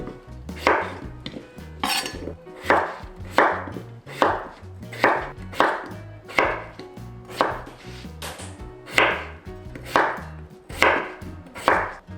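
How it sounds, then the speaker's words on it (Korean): Potatoes being chopped with a knife on a board for a tuna potato stew, a steady series of about a dozen crisp, evenly spaced chops, close and clear with no talking. "감자는 3개 530g. 자, 이거는 자기 취향껏 썰어 주시면 돼요."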